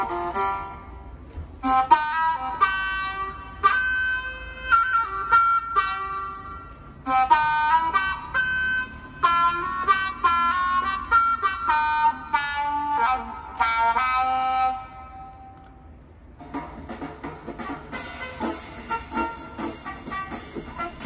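A saxophone plays a bluesy solo phrase from Lou Donaldson's Alligator Bogaloo in bright melodic bursts with short pauses between runs, close and solo, without talking.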